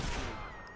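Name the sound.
gunfire in the video game Watch Dogs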